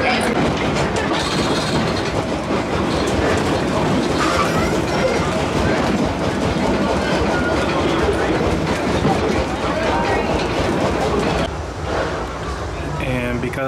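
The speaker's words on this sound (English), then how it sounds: "this is an actual real steam engine train here at Six Flags" A real steam engine train at Six Flags Over Texas rolls past with a continuous rumbling clatter and rhythmic clickety-clack of wheels on track, loud and close, with people talking over it.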